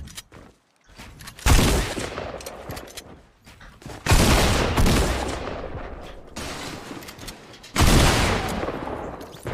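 Shotgun blasts in the battle game PUBG, three loud booming reports spaced a few seconds apart, each with a long decaying tail, the last fading into quiet between shots.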